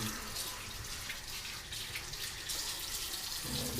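Running water from a tap washes skin before surgery, a continuous soft hiss and splash at low volume with no talking.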